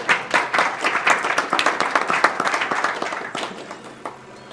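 Audience applause at a live Games Done Quick 2014 speedrun event for Zelda: Majora's Mask on N64, dense rapid clapping from a crowd, loud and steady before gradually thinning out toward the end.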